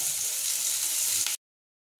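Chicken fries lightly in a pan for a chicken pizza, a steady sizzling hiss that cuts off abruptly into silence, with a brief return of sound at the very end.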